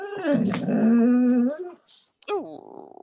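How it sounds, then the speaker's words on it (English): A dog in a fantasy role-playing video game whimpers with a drawn-out, wavering whine, then a short falling yelp. A person makes a brief exclamation. "that's a dog asking."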